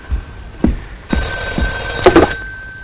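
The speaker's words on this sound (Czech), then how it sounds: "Máš telefon!" A telephone bell rings loudly and close by in a few sharp, bright bursts, with thuds and knocks around the rings.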